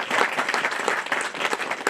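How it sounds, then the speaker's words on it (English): A short, dense burst of audience applause rises at a Lincoln University event marking a $25 million TMCF and Lilly Foundation donation. The crowd claps steadily throughout the brief moment. "I just want to give a small round of applause for this young man."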